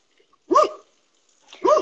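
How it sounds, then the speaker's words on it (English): Two short, sharp barks from a neighbor's dogs, one after the other with a pause between, heard clearly in an otherwise quiet room. "my neighbor's dogs will keep barking forever"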